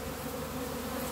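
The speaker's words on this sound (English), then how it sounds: "as you can see, bees start taking a little bit of interest." Buckfast honeybees swarm around hives loaded on a truck, making a steady, dense buzz that fills the whole moment with no pauses and no voices.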